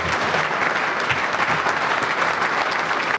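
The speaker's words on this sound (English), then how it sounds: "please join me in a wonderful round of applause for Mr. Tony Pomerleau" An audience claps steadily and densely for an anniversary celebration, a continuous wash of applause from many hands that holds at full strength and then cuts off abruptly at the end.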